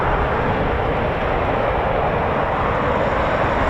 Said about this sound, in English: when the aircraft has been cleared to taxi using the runway